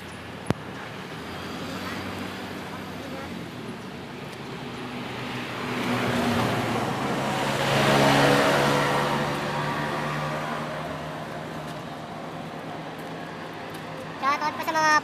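Steady highway traffic on Roosevelt, cars and larger vehicles droning past in a continuous roar that swells midway as something nearer passes, with people talking over it.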